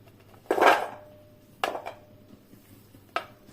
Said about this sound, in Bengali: সেকেন্ড স্টেপে হলো এগুলো আমি সব একসাথে থেতো করব